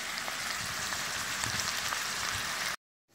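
Food sizzles and crackles steadily in a frying pan over a hot mini rocket stove outdoors, a dense close hiss with small pops that cuts off abruptly near the end.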